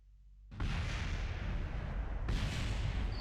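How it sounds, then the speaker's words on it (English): A spacecraft blows up in Kerbal Space Program, a sudden loud roaring blast that sustains as dense rumbling noise, with a second burst swelling partway through. "Sorry about that explosion."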